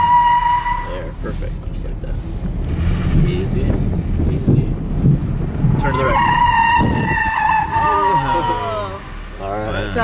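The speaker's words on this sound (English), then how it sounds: "As soon as it starts to squeal and slide, in this direction, you're gonna turn." Car tires squeal loudly as the car skids on a skid pad during teen driver safety training, with rumbling road noise underneath. Wavering high squeals build toward the end while people talk over the sound.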